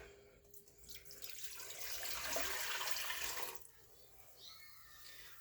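White vinegar pouring into a container for pickle brine, a steady liquid rush that builds, runs for a couple of seconds and stops, followed by faint trickles and drips.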